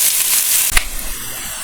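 Chopped onions hit hot vegetable oil in a skillet with a sudden loud crackle, then settle into a steady, close sizzling hiss.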